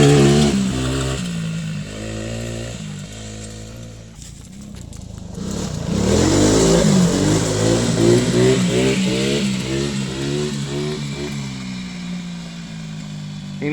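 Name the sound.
Tao Tao 125cc quad engine revving at full throttle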